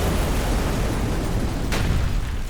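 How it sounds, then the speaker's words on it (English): A big explosion booms as a dense, sustained roar of rumbling noise, loud throughout with a brief sharp crack partway through, from a mountain-biking setting with no talking. "Big explosion."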